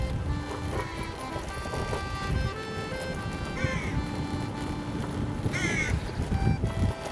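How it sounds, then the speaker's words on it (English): A crow cawing outdoors during a bike ride, a few harsh repeated calls rising above steady wind and road rumble, with a voice briefly speaking. "Hello, crow."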